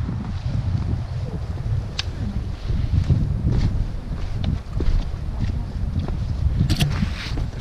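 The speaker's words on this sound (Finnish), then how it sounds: "Alkaa tuuli yltymään." Wind picking up in a Finnish recreational forest during a hike, a continuous low buffeting rush with gusty surges and small rustles, heard alone without talk.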